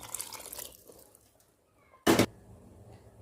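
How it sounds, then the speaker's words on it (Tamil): Water splashes briefly into a pot of cauliflower sambar. It is one short, loud burst after a quiet kitchen stretch, with no talking. "இப்போ தண்ணி ஊற்றிக்கலாம்."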